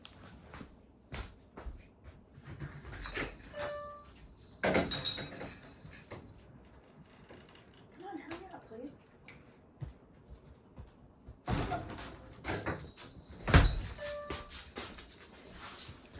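A door slides open and shut with a couple of heavy knocks and rattles, while a voice speaks briefly between the sounds.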